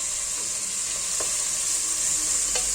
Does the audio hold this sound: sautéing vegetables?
yes